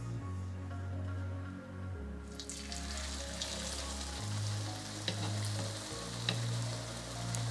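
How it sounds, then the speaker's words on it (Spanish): A shrimp empanada sizzles and crackles as it deep fries in very hot oil, a steady frying hiss with occasional pops, fairly close and moderately quiet. "Agregamos nuestra empanada al aceite bien caliente."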